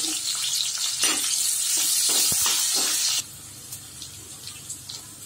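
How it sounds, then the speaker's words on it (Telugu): Chopped onions and green chillies frying in oil in a pan, a steady loud hiss for about three seconds that drops abruptly to a softer sizzle with faint crackles, close up with no talking. "పాన్ పెట్టుకుని ఆయిల్ వేసి తరిగిన ఉల్లిపాయలు, పచ్చిమిర్చి వేసి కొంచెం ఫ్రై చేసుకోవాలి"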